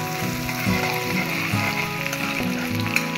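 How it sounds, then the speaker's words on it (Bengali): Onions fry in a pan for palak chicken, a steady bright sizzle filling the whole stretch with soft stirring scrapes now and then, close and even in level, with no voices. "ভাজি লম পিঁয়াজ খিনি ব্রাউন হওয়ালে"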